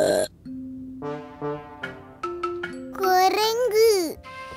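A cartoon character lets out a loud, drawn-out burp with a rising, warbling tone over a couple of seconds, preceded by short childlike vocal sounds and a soft tinkling jingle.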